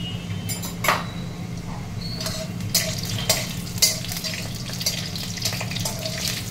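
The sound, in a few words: bay leaf and cumin seeds tempering in hot oil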